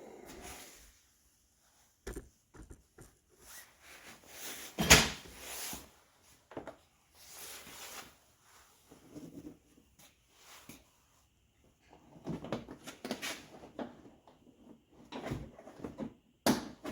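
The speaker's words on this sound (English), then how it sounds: "Let's get the door panel back on." Interior door panel of a Dodge Ram pickup truck being pressed back into place, giving scattered plastic clicks, knocks and a sharp snap among quieter fumbling handling noises.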